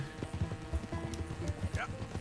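Horse hooves clip-clop in Red Dead Redemption 2, a quick uneven run of soft thuds at moderate distance, with a brief whinny-like cry near the end and a voice talking over it.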